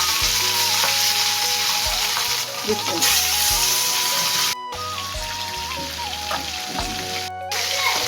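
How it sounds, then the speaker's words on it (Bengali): Onions frying in very hot oil for a gulsha fish curry, a loud, dense, continuous sizzle with crackling spatters, heard close up with low background hum and tonal kitchen noise and two short gaps. "পেঁয়াজগুলো ভেজে নিই, সময় কম।"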